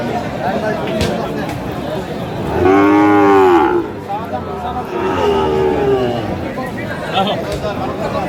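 Sahiwal calves at a busy cattle market in Feni low out in two drawn-out moos, the first loud and close, the second softer, over constant crowd chatter and nearby voices.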